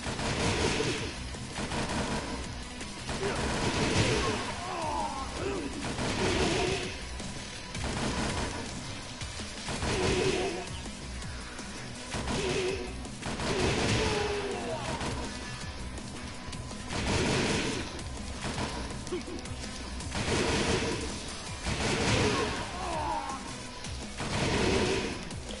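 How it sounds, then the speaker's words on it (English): Rapid bursts of gunfire in Tekken 7, a fighting game, repeating in clustered volleys every couple of seconds over steady background game noise, fairly loud and continuous without speech. "You just shoot a gun."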